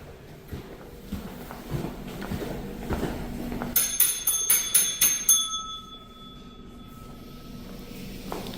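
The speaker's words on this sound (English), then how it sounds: "That's the second time I ring that bell" A bell at the door of an Alabama city hall is struck in a quick burst of about eight bright rings. A thin tone lingers after them over faint background footsteps and room noise.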